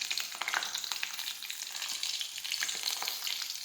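Mustard seeds, cumin and curry leaves crackle and sizzle in hot oil for a tempering, a steady, close frying hiss dotted with small pops and spits throughout, with no voices.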